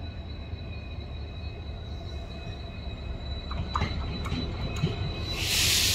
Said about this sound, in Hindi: WDP4D लोकोमोटिव के साथ चलती है